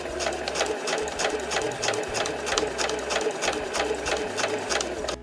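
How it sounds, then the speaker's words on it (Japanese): A sewing machine stitching a 1 cm seam around a fur drop tote bag, running in a fast, even rattle of stitches from start to finish, close up with no talking. "それでは周囲を1センチで縫います。"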